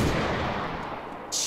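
Grenades burst in DayZ, a loud booming blast at the start that rolls into a rumbling decay, then a sharp new crack at the end.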